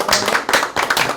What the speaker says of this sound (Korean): 우리 선교사님한테 박수 한번 하겠습니다.